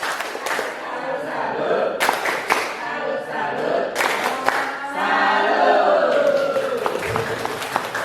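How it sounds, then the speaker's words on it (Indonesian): A group performs the tepuk salut clapping routine at the close of a school teachers' session: sharp rhythmic claps and thumps mixed with chanted voices, loud and close. "Sebelum ditutup, kita tepuk salut terlebih dahulu."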